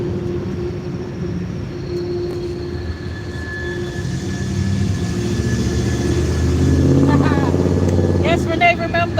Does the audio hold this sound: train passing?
yes